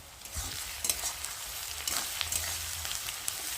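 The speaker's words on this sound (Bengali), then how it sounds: "আর ওদিকে দেখো পেঁয়াজটা ভাজা হচ্ছে, চল একটু নেড়ে দিই।" Onions frying in a pan while being stirred for biryani, a soft steady sizzle with scraping stir strokes, fairly quiet and close, no talking.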